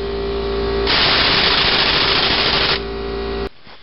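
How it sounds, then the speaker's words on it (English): An impact wrench tightening the crankshaft pulley bolt on a Ford Focus, a loud continuous buzzing rattle lasting about two seconds over a steady background hum, then cutting off. "I'm just going to tighten that up with the impact wrench"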